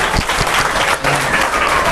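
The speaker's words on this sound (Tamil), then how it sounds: "நல்லா கைத்தட்டுங்க" A crowd at a Tamil public talk applauds in a loud, continuous burst of many hands clapping at once, with a brief dip midway before the clapping surges on.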